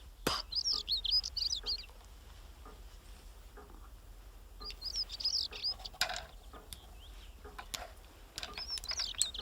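Small bird chirping in short repeated bursts of high tweets, separated by pauses, with faint clicks and a low background hum.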